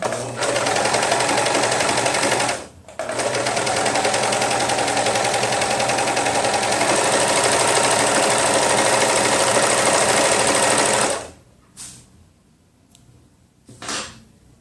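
An overlock serger runs fast and loud along a T-shirt armhole, a dense rattling buzz with one brief pause, then stops near the end, leaving short bursts of handling noise.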